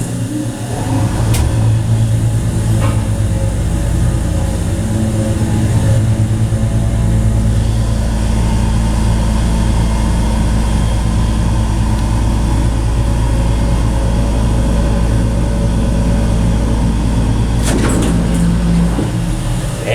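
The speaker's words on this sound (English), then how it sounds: "Man, this thing has a loud motor." A loud hydraulic motor drives a home elevator in a shopping center in Emeryville, California. It makes a steady, droning hum that stays close and constant, with a couple of brief clicks and knocks.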